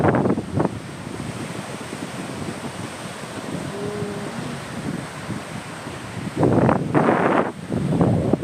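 Surf rolling onto an Indonesian beach with wind buffeting the microphone, a steady broadband wash throughout that swells louder in bursts near the end; no talking.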